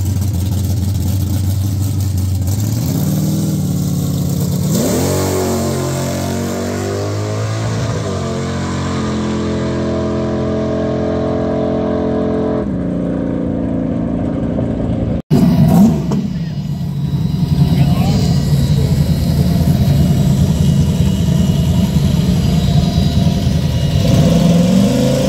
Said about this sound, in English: So we're just tuning the car, and that was the first pass